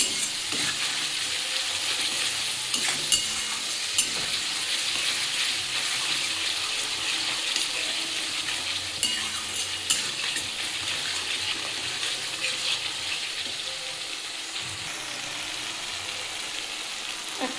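Mutton sautéing in a pan with salt and spices for a Bengali curry, a steady loud sizzle with scraping stirring strokes and occasional clinks of the spoon, continuous throughout with no talking.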